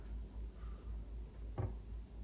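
A kitchen cabinet door with Richelieu soft-close hinges eases shut, ending in one soft, brief thud near the middle, with no slam and only quiet room tone around it.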